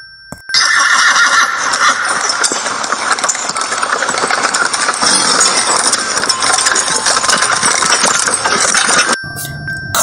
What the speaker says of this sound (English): This is a horse cart.